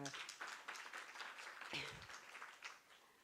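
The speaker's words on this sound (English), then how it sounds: "I think that is well for an applause" Applause from a small roundtable audience at an International Women's Day event, a short burst of scattered clapping, fairly faint and distant.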